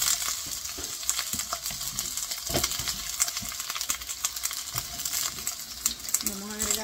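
Onion frying in a pan as the base for shrimp soup, with a steady sizzle and scattered clinks and scrapes of stirring close by, and no talk.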